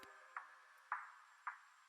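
A texture layered with a percussion loop, played quietly at lowered velocity: three soft knocking hits spaced about half a second apart over a faint, steady background texture.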